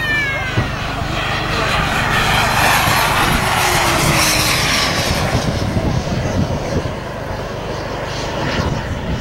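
An aerobatic airplane at an air show drones loudly through a tight climbing turn, its engine note swelling and shifting pitch as it passes, with a commentator speaking over it.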